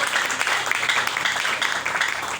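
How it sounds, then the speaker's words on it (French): A church congregation applauds and cheers for the glory of God, a dense, loud wash of clapping and voices filling the room throughout. "Quelqu'un peut acclamer très fort pour la gloire de Dieu"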